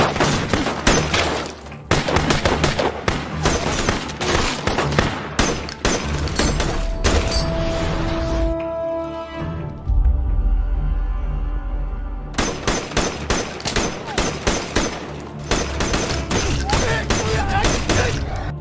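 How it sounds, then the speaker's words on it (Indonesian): A film shootout against a drug cartel's men: dense, loud barrages of rapid gunshots fired at attackers on a lower floor, with a brief lull and low rumble mid-scene before the volleys resume. "melepaskan rentetan tembakan ke arah para penyerang di lantai bawah"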